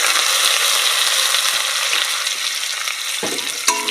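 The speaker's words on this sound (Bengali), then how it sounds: "আদা কুচিটা একটু ভালো করে ভেজে নেবো" Chopped ginger and garlic frying in a pan, a steady loud sizzle running throughout with faint stirring scrapes and a brief clatter near the end, no voices.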